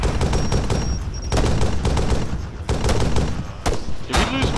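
Dense, loud gunfire in an Arma 3 battle, overlapping rapid shots and bursts filling the whole stretch, with brief clusters of sharper nearby cracks.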